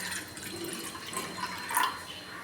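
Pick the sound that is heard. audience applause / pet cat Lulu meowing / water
water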